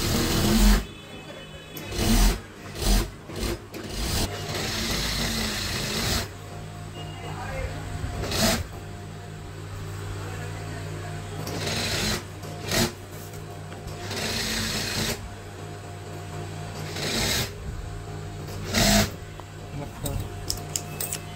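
A sewing machine stitches a single hem on a burqa, running in several bursts of rapid rhythmic whirring with brief pauses between, close by, while someone talks over and between runs.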